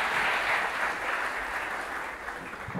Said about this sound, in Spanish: Un fuerte aplauso para Juan